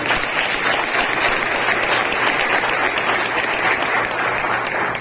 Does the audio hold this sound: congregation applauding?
yes